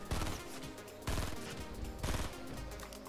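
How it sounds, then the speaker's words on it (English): Rapid video-game gunfire in three short, dense automatic bursts about a second apart, crisp and loud, with no talk over them. "Rick shot at somebody over here."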